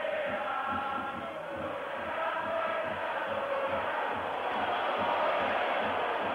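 Large Italian stadium crowd at a 1983/84 European Cup semi-final football match between AS Roma and Dundee United, a sustained roaring, disapproving swell of many voices filling the whole stretch without any clear talk on top.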